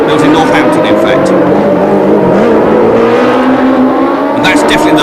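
Formula 1 race cars roar around the Long Beach Grand Prix street circuit, a loud continuous engine howl with shifting pitch, while a commentator talks over it.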